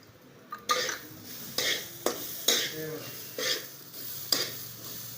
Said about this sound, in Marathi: लाल होईपर्यंत खमंग असं भाजून घ्यायचे त्या तुपानं कसं मस्त असा वास येतो खिरेला त्यामुळं तुपातच शक्यतो भाजायचे